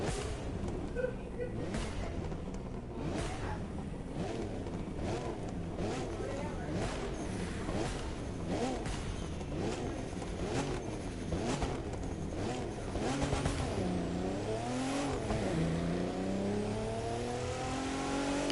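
A video game twin-cam car engine idles and revs repeatedly with rising and falling pitch, steady and loud throughout, ending in a sweeping climb.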